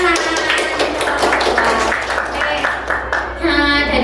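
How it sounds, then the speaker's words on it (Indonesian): Students in a mathematics classroom clapping together in a brief burst of applause, the claps quick and close, with a voice speaking over them near the end. "Ya, tepuk tangan."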